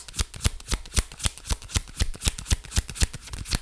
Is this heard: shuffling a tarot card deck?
yes